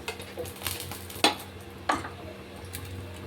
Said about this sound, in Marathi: मटकी हे आपल्याला फ्राय करून घ्यायची